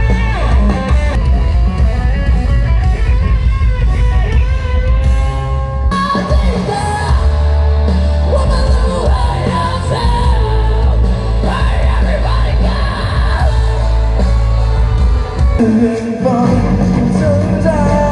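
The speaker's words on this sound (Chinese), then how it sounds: "听到各位最大声的尖叫声" A concert crowd yells and screams at an outdoor New Year's Eve show on the stadium lawn in Pingtung, their voices mixed into loud, continuous live music that fills the whole stretch.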